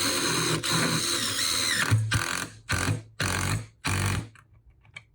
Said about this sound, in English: It's easy to overdrive the 1/4 inch bolts with this impact driver.